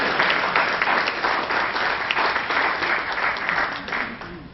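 Indoor audience at a talk clapping, dense sustained applause from many hands, loud and even throughout before fading slightly at the end.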